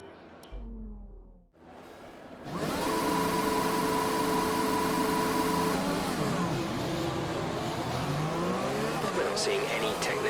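An F1 race car in F1 2020 sits briefly near idle, then the engine surges into a loud, sustained high-revving scream at the race start at Monaco, with other cars' engines layered in and the pitch shifting as it accelerates.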